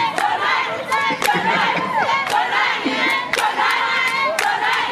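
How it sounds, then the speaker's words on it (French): A large crowd at a fight event shouts and roars continuously around a knockout, loud and close, with overlapping yells and cheers and no clear gaps. "Les gens crient seulement, moi aussi je crie."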